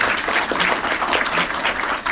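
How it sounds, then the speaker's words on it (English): An audience gives a round of applause, a dense and steady burst of clapping that fills the room, heard alone with no voices. "Matt deserves a round of applause for that, in fact."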